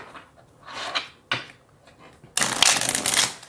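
Tarot cards being shuffled by hand: a few soft riffles and taps, then a louder, sustained shuffle near the end.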